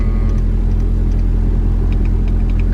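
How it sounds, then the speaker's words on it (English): A warm Honda CRX Si engine idles steadily, a loud continuous low rumble with a faint higher whine, heard close up and without talk. "So start up the car and see."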